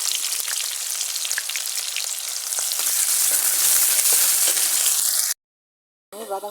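Chopped onions fry in hot oil in a pan with a loud, dense sizzle and occasional crackles, building slightly before abruptly cutting to silence, then a brief burst of sound returns.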